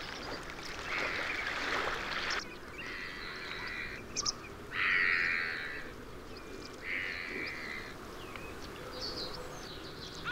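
Outdoor ambience in the Ebro river delta wetlands with several short calls of water birds such as stilts, avocets, herons and ducks rising over a steady background hiss of water and wind, a few louder calls standing out midway.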